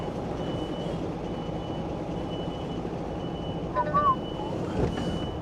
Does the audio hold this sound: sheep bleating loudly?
no